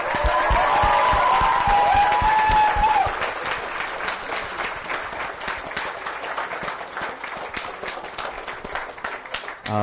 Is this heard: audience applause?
yes